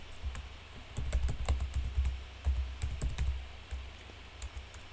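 Login credentials being typed on a computer keyboard: quick bursts of crisp key clicks in an irregular rhythm, close and clear, with short pauses between groups of keystrokes.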